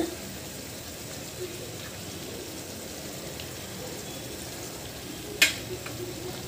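Beaten eggs sprinkled with pepper powder fry in a pan, giving a low steady sizzle with a sharp utensil clink near the end; a voice is faintly present.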